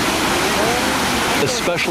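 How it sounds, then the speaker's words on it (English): Artificial waterfall in the faux Arizona desert at Disneyland in Anaheim, a loud steady rushing roar of falling water, close by, with a voice speaking briefly near the end. "a waterfall in a place where there shouldn't be one, like in the middle of the city of Anaheim, in a faux Arizona desert."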